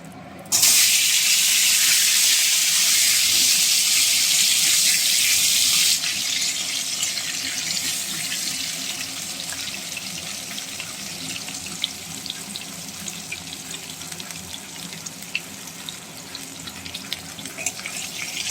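Potatoes go into hot oil in a pan where fish has just been fried for a Bengali fish curry, giving a loud, close hissing sizzle that is fiercest for the first few seconds, then settles into a steady frying hiss with no talk.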